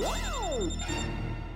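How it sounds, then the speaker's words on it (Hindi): A phone ringtone plays close and loud as a bright, rising and falling electronic melody. It runs continuously over a low hum. "मैंने सेम रिंगटोन सुनी थी।"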